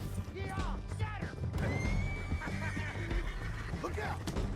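A horse in the video game Red Dead Redemption 2 neighs and whinnies repeatedly amid hoofbeats and in-game commotion, with voices talking over the sounds.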